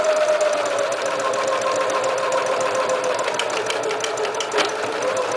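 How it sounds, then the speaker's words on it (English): A Kenmore 385-16220 sewing machine stitches an automatic buttonhole with a fast, steady mechanical whir and rapid rhythmic needle ticking, heard up close and continuous with no talking. "Let's see if it will make the buttonhole for us."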